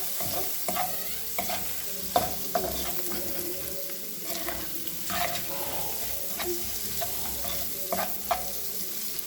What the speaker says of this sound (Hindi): अब इसमें मसाले डालेंगे और सिरका डालेंगे, मिक्स करेंगे।